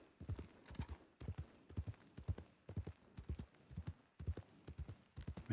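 Horse hooves clip-clopping in a steady trotting rhythm while riding through woods in a Wild West roleplay game, close and clear with no talk over them.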